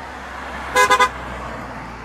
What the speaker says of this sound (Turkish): Arabalar çok hızlı geliyor.